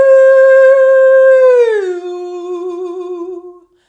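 A singer's voice imitates an ambulance siren, holding a loud, steady tone for over a second before gliding down in pitch and wavering on a lower note until it fades.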